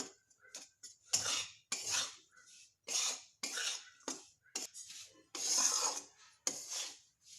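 A spoon scrapes and presses through lumps of gram flour roasting in ghee in a pan, a series of short, close, gritty scraping strokes separated by brief pauses.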